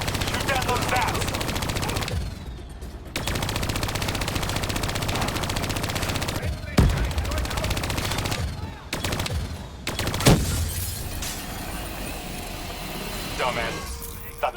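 Sustained machine-gun fire in Call of Duty: Black Ops 3, shooting down bats, with long rapid bursts broken by short pauses and sharp louder shots, while voices talk over the shooting.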